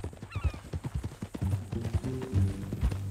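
Horse hooves clip-clop at a steady walking rhythm in Red Dead Redemption 2, close and distinct, with a brief whinny near the start and low tones sounding under the hoofbeats.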